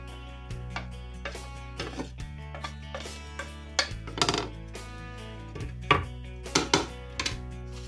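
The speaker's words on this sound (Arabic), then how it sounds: "دابا غنقطعو التومة" A knife chops garlic on a board for a homemade pizza baguette: irregular crisp taps, some single and some in quick pairs, get sharper and closer together toward the end over steady background music.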